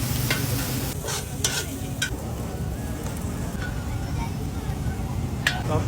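Steady sizzling of an oyster omelette frying on a hot griddle at a night street bazaar in Kuala Lumpur, with repeated scraping and stirring strokes of a metal spatula over the constant crackle.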